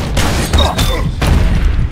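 A grenade blast in the shooter game Ballistic Overkill, a loud booming burst amid a dense stretch of gunfire and thuds lasting the full two seconds, with several sharp bursts cutting through a constant rumbling din.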